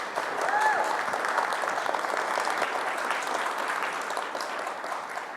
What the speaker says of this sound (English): Joe Decuir, everybody, big round of applause.